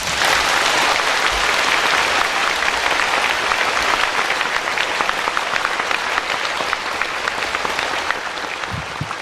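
Audience applause at the close of a spiritual talk, a dense, steady wash of many hands clapping that fills the whole stretch loudly and tapers only slightly near the end.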